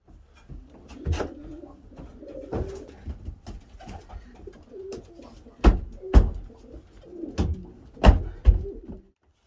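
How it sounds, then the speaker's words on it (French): Feather-footed pigeons coo softly in a pigeon loft, repeated low throaty calls near the microphone, punctuated by a few sharper thumps and rustles. "Parce que c'est les pigeons avec les plumes sur les pattes."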